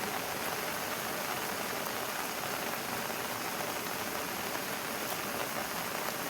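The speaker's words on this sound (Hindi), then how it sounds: "जोरदार बारिश का सिलसिला लगातार जारी है" Heavy, steady rain pours down during flooding in rural Rajasthan, a dense continuous hiss of raindrops on surfaces with no pauses, loud and even throughout.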